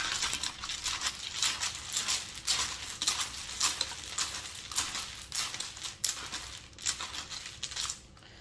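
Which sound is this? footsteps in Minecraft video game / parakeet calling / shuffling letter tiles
shuffling letter tiles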